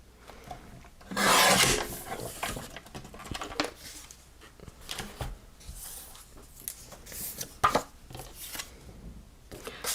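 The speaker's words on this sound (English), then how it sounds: "And I will trim this down a little bit more." A paper card for a handmade greeting card being trimmed, with a loud rasping cut near the start followed by quieter intermittent scraping and handling sounds close by.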